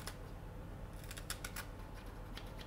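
Kitchen scissors snipping fresh chives, a run of quick, quiet metallic snips clustered after a brief pause, close up over a low steady background hum with no speech.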